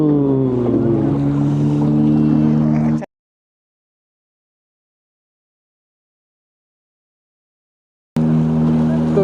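A motorboat engine on Panshet dam runs as a loud, steady droning hum with a strong low tone for about three seconds, then cuts out and returns briefly near the end.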